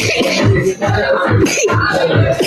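A boy coughs repeatedly in a village temple courtyard, a steady run of close, loud, rough bursts about every half second with little pause between them.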